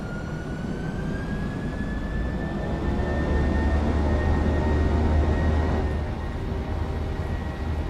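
Jet engines of a PMDG 737NG spooling up for takeoff in a flight simulator, a loud steady roar with a rising whine that climbs and holds, with a deep rumble underneath and no talk.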